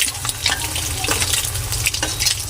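Hot oil spatters and crackles loudly while a corned beef omelette fries in a pan. Dense, close sizzling runs throughout, broken by sharp pops and scraping stirs.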